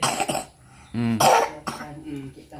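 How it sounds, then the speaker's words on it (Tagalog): Several harsh coughs close to the mic, a short cluster then a couple more spaced out, with faint murmuring between them. "grabe ng ubo dito, dapat ito may gamot"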